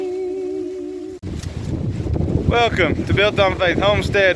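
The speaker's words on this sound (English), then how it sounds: "Please excuse the wind." Outdoor wind buffets the microphone with a low, rumbling roar that runs throughout, loud and close, while a person talks over it.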